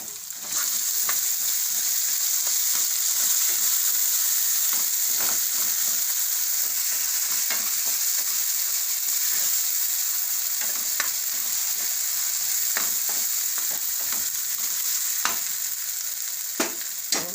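Garlic, ginger and chilies frying in oil, a loud continuous sizzle close up, broken by repeated scraping strokes of a spatula stirring the pan.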